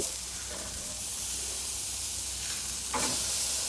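Steaks sizzle and fry steadily on a Jealous Devil charcoal grill, a continuous close hiss with a brief louder crackling burst near the end; no one speaks.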